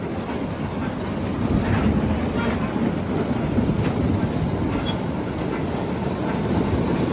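IH 1486 tractor pulling a New Idea corn picker while picking ear corn, a steady, loud mechanical rumble and clatter filling the whole stretch with no talk over it.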